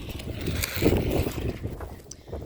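Gusty wind buffeting the microphone in low rumbling bursts, rising and falling over a couple of seconds outdoors.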